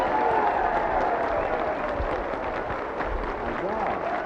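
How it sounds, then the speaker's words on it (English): An audience applauds as a guest entertainer comes on stage at a comedy show, a broad wash of clapping and crowd noise with cheering voices and people talking over it. "Big round of applause here for the man of the hour, Rich Little."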